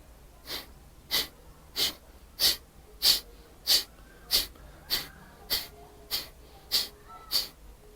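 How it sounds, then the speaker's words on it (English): Rhythmic Breath of Fire yoga breathing: about a dozen sharp, forceful nasal exhales spaced evenly roughly every two-thirds of a second, close and clear with no talking. "you would essentially be just breathing out, ideally through the nose, and you could be gentle at first."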